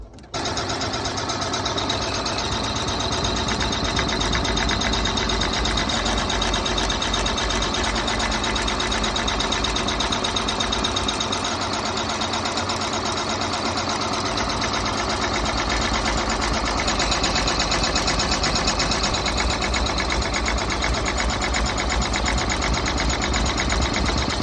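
A sewing machine stitches a printed vinyl card money holder panel, running at a steady, continuous whir close by for the whole stretch with no pauses.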